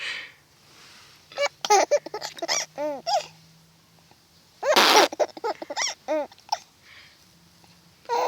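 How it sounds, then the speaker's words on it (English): A baby's hiccups and squeaky vocal sounds come in a quick, irregular series, with a sharp burst in the middle, close and fairly soft in a quiet room. "You gave yourself the hiccups."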